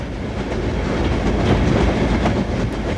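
A 52XX steam locomotive rumbles steadily past at close range, a dense continuous roar of wheels and running gear with a faint rhythmic clatter throughout.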